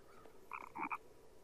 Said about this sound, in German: höre so ein Froschgeräusch